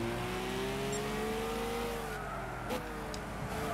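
A loud Corvette engine in the Gran Turismo 6 racing game drones and revs steadily with its pitch slowly climbing, followed by a brief sharp squeal near the end.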